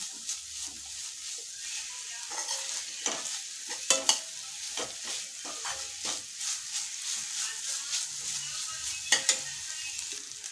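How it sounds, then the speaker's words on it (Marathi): Freshly ground coconut is stirred and sautéed in ghee, giving a continuous soft sizzle with repeated scraping stirs and occasional sharper clicks of the spoon against the pan, with no voices. "हे खोबरं या तुपामध्ये छानपैकी परतून घ्यायचं आहे"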